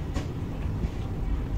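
A passenger train runs near New Jalpaiguri station, giving a low, continuous rumble of wheels and carriage with faint rattling throughout.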